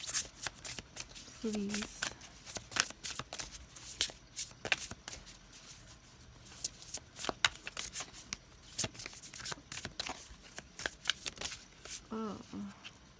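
Tarot cards are shuffled and drawn by hand, a soft riffling and snapping of card stock in quick irregular bursts, close and quiet, with a brief spoken word near the start and a few short vocal murmurs.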